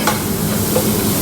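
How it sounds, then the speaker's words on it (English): Ginger garlic paste cooking in a pan while chicken biryani is prepared, giving a steady, fairly loud sizzle with stirring scrapes throughout a short stretch. "Before it starts getting burnt, we add ginger and garlic paste again."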